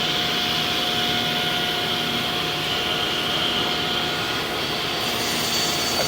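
A Striebig vertical panel saw makes a trim cut on a board, its motor and dust extraction roaring in a loud, steady drone with a faint tonal whine, shifting slightly as the cut finishes.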